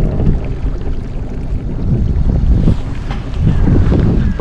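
A boat pushes upstream on the Danube through a river crowded with floating trees, with steady wind buffeting the microphone and low rumbling water and engine noise throughout, loud and close with no talk.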